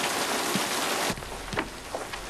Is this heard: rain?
yes